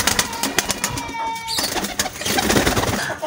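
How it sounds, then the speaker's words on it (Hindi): Pigeons in new cages coo and flap their wings, a busy, close flurry of soft calls and wingbeats. "ये हैं दोस्तों कबूतर माशाल्लाह"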